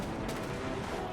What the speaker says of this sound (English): I'm going to use my flak cannon.